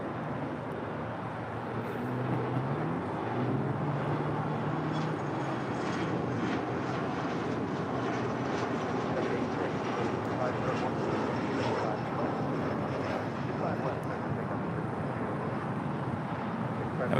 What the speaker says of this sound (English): That was JSX Flight 321 heading to Las Vegas in an ERJ 135LR.